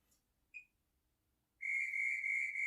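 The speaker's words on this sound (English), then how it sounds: "Let's let the little whistle have its excited moment." A workout timer signals the end of a five-minute home exercise session with a small whistle: one brief chirp, a pause, then a sustained, shrill trilling whistle, fairly loud and alone.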